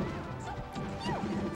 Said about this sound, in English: He's down smashed.